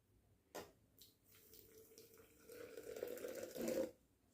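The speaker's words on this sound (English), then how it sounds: "And now I'm going to just add a little bit of water to it." After a brief clink, water pours in a steady trickle onto coffee grounds in a French press, swelling louder and gurgling near the end.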